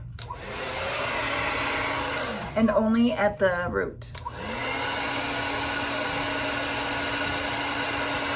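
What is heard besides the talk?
blow dryer drying hair at roots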